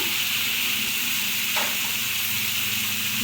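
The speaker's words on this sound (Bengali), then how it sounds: "এখন শুধু ভাজবো পোড়া পোড়া করে বাইজা নিব একদম মশলার সাথে বাইজা" Chopped onion frying with spices in a hot pan gives a loud, continuous sizzle and hiss, close up and unbroken, with no voices.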